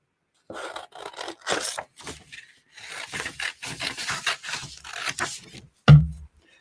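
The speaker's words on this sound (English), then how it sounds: "let me grab my scissors here and we'll just trim out a logo" Scissors trim around a logo on a heat transfer print sheet, a series of short, close, papery rasping cuts in a quiet room, ending with a louder thump.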